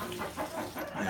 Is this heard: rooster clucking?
yes